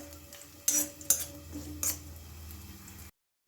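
Coconut slices being lightly fried and stirred in a pan, heard as faint sizzling under a few sharp metallic clinks and scrapes of a spoon against the pan, then silence.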